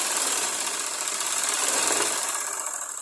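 A sewing machine stitches a blouse, a fast, even mechanical whir and rattle running steadily close by, easing slightly at the end.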